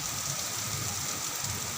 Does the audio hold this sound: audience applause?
no